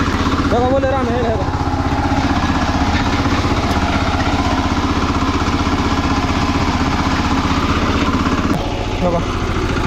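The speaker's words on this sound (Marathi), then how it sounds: "बघा ट्रॅक्टर खाली घुसायला लागला" A tractor engine runs loud and close while the tractor is stuck in a muddy sugarcane field. The engine throbs steadily and unbroken, and voices talk over it.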